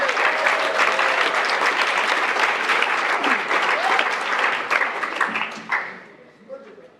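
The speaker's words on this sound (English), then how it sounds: "please give them a big round of applause" An audience at an awards gala breaks into strong, dense applause that stays loud for several seconds, then tapers off quickly as a few scattered claps linger.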